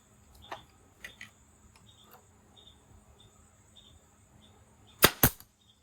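Two-inch nails being driven into siding trim on a pool pavilion: a few faint taps, then two sharp, loud strikes close together near the end, over quiet background.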